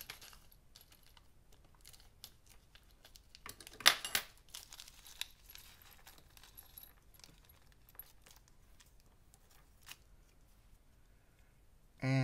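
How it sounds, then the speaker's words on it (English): Scalpel knife cutting open packaging for a Korg NTS-1 kit, with faint scattered clicks, crinkles and scrapes, a brief louder crackle midway, and a short thump at the end. "I'm going to go ahead and cut this open using my scalpel knife."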